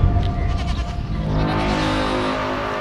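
Goat bleating at an Eid livestock market, a few drawn-out calls near the start giving way to a steady bed of crowd and market noise, fairly loud throughout.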